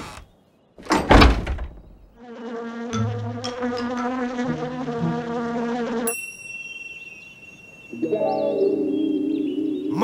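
A swarm of bees buzzes in flight in a 2019 Russian animated cartoon, a loud, steady, droning hum. It starts after a brief whoosh and gives way to a sliding, tonal sound effect, with no talk.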